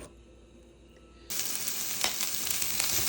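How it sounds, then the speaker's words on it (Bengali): Octopus fries with onion, green chili and ginger, a loud, bright sizzle that bursts in suddenly after a quiet start and then holds steady and close, with a few sharper crackles. "অক্টোপাসগুলো আপনার পেঁয়াজ, আপনার একটু কাঁচামরিচ এবং আদা দিয়ে আপনার ভেজে নিচ্ছি"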